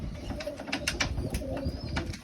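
Pigeons coo softly in a close, steady murmur, with soft rustling and a few brief higher chirps scattered through.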